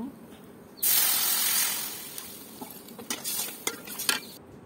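Water poured into semolina roasting in a pan over a clay stove sets off a sudden loud, broad hiss that slowly fades into sizzling, with stirring scrapes and small pops following.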